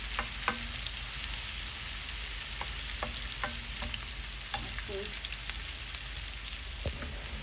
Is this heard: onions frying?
yes